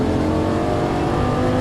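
Lamborghini Gallardo LP550-2 engine pulling hard at full throttle on a track, a loud, steady close-up roar sustained without a break.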